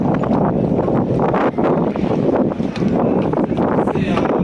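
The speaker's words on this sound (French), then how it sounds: "vous avez entendu beaucoup de vent là" Heavy wind buffeting the microphone at a harbour basin, a loud continuous roaring rumble that barely lets up for the whole stretch.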